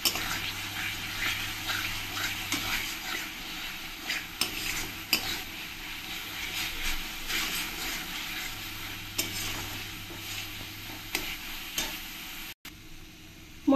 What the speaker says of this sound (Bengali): দিয়ে আবার কিছুক্ষণ মশলাটাকে ভালো করে কষিয়ে নেব